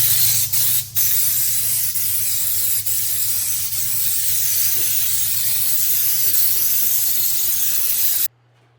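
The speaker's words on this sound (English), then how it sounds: "We're going to spray that up into the body cavities, up over the fender wells where there's plastic on the wiring" Boss Wax hybrid undercoating sprayed under a Ford F150 into body cavities and over fender wells, making a loud, steady close-up hiss with a couple of brief breaks near the start before it cuts off abruptly.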